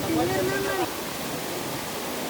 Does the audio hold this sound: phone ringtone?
no